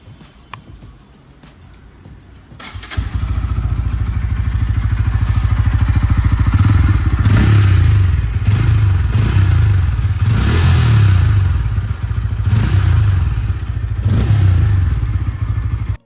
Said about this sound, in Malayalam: എക്സോസ്റ്റ് നോട്ട് നമ്മൾ കേട്ടിട്ടില്ല ജസ്റ്റ് വാഹനം നമുക്ക് സ്റ്റാർട്ട് ചെയ്യാം